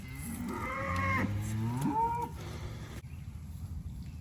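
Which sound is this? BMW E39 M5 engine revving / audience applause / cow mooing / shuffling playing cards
cow mooing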